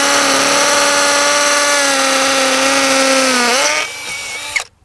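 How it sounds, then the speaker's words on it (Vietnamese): A power drill bores into a wall to mount a heavy-duty screw anchor, a loud steady high whine that drops in pitch as the bit loads, then cuts off and winds down after about four seconds. "Thì với loại này bắt buộc mình phải dùng máy khoan."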